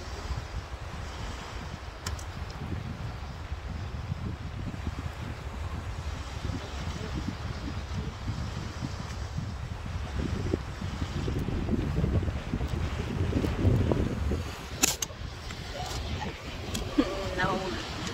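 Steady, blustery wind buffets the microphone, rumbling low and gusting harder toward the end, with faint voices in the background.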